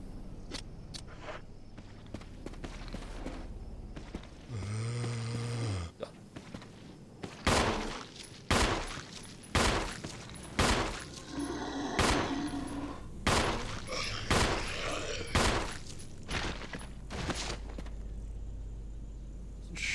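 Gunfire from the GameCube version of Resident Evil, a string of loud, sharp shots fired at irregular intervals after a brief electronic tone, with light game ambience between them.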